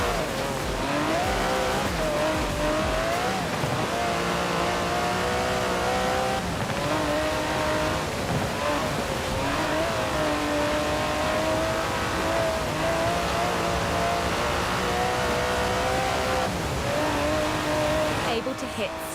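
Aston Martin DB11 with a 5.2-litre twin-turbo V12 driven hard in Forza Horizon 4, a loud continuous engine note climbing and dropping through repeated gear changes, with a voice talking over it.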